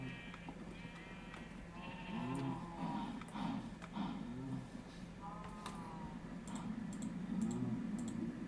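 Sheep in the modded video game Minecraft bleat repeatedly, several wavering calls spaced across the scene over a steady low background hum.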